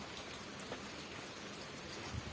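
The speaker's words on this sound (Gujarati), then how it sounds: "વરસાદ ચાલુ છે જો" Steady rain falls in a continuous soft patter of drops on a surface, faint and even throughout, with no voices and only a slight rise near the end.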